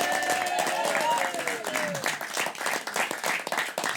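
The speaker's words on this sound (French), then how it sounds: "Veuillez applaudir, messieurs, dames, si vous soutenez cette histoire." A French audience claps to vote for a story in a live show, sustained applause from a crowd with voices audible through it.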